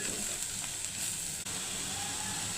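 Cabbage with salt sizzles steadily in a pan, a bright continuous frying hiss with a faint stir partway through, no talking.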